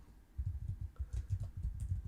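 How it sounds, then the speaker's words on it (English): Quiet typing on a computer keyboard, a soft irregular patter of keystrokes at close range that runs for about two seconds with no talking. "I was just typing in Lego Batman."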